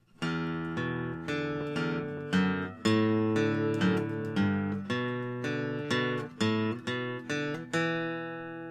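A guitar plays a steady melodic passage alone, plucked notes ringing out in an even rhythm with sustained harmonics, moderately loud and close.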